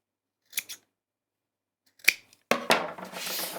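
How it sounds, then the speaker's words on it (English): Scissors snip loose thread ends off sewn fabric: a couple of quick close cuts, a sharp single snip, then a busier run of rustling snips near the end. "I'm just going to snip all of those ends off"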